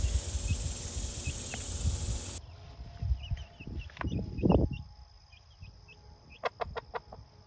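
Backyard hens cluck close by, one of them a mother hen with a newly hatched chick, in a small flock kept with a rooster; short clucks and soft chirps come in scattered bursts, busiest in the middle, with no talking.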